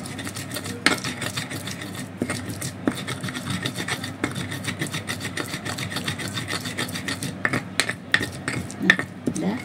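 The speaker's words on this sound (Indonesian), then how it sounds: "tumis bawang yang kita haluskan tadi bersama cabe sampai harum" A spatula scrapes and stirs ground shallots and red bird's eye chili paste frying in a pan, with repeated rasping strokes in an irregular rhythm, close up and without speech.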